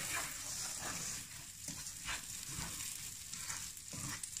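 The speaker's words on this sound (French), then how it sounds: "On va remuer. On va nacrer un petit peu." Rice being stirred and toasted in olive oil with garlic and onions in a pan, a steady soft sizzle with faint scraping strokes of the spoon, quiet and close, no voices.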